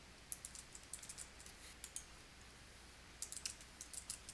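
Fingers type on a computer keyboard while account numbers are entered in QuickBooks Online, giving quiet close bursts of rapid key clicks with a pause in the middle before another run of keystrokes.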